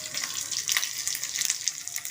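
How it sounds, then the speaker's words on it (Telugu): Green chillies and onion frying in a hot tempering of seasoning spices for buttermilk rasam, a close, bright crackling sizzle with stirring scrapes, alone without voices. "ఇప్పుడు మనం ఒక్క క్షణం అలాగా పచ్చిమిరపకాయ,"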